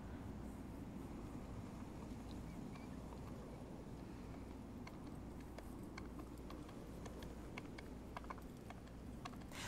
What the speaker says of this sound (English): What's the name of the horse? Is it Agro?